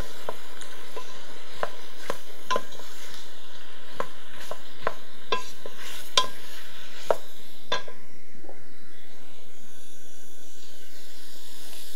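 Wild boar pieces being stirred with flour in a cooking pot, a series of distinct scraping and clinking strokes of the spoon against the pot, fairly close and spaced irregularly, with no talking.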